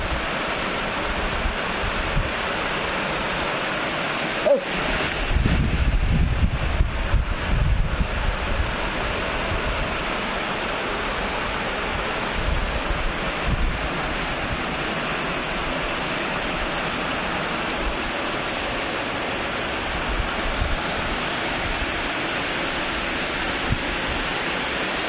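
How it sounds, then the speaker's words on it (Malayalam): Heavy rain pours steadily with gusting wind roaring across the microphone, a brief louder rumble early on, continuous and loud throughout. "ഇവിടെ നല്ല മഴയുണ്ട്. കാലത്തെ മഴ സ്റ്റാർട്ടായി. കാറ്റും മഴയാണ്."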